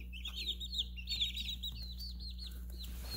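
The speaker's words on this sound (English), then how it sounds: "These chickens, they like to explore and scratch." Three-week-old broiler chicks in a crowded brooder give high, quick peeps and soft clucks in short bursts, faint and close over a constant low hum.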